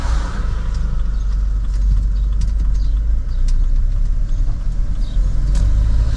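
A car passing on a road, a steady broad engine and tire rush heard from inside or beside a van during a test drive, loud and continuous with no talking.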